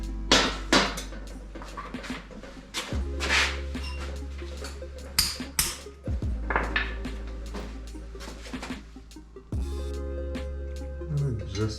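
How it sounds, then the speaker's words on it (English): Metal hammer blows strike a turbo down pipe being flattened in a workshop, several sharp clanging hits spaced irregularly between quieter handling noises. "just hammer it a little flat to match this"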